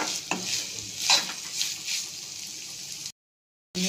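Boiled soybean stirred in a hot pan with ground paste and green chilli, giving a bright sizzle with scraping spoon strokes for about three seconds, then a sudden brief silence before the frying returns.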